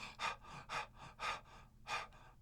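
Loud rhythmic breathing close to the microphone, about five strong breaths in a steady pulse with quieter breaths between them.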